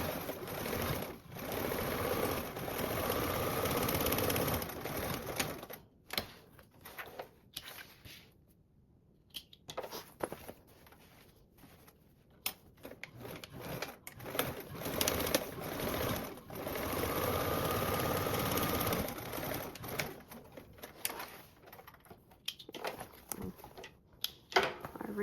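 A sewing machine runs reinforced stitching across a fabric tote bag panel, a steady close whirring of rapid needle strokes in long bursts separated by short pauses, with no voices.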